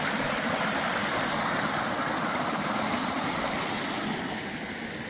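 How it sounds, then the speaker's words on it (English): Waterfall plunging into a gorge at Galvin's Gorge, a steady, dense roar of falling water close by, continuous and loud with no voices over it. "Got the waterfall right here in front of me."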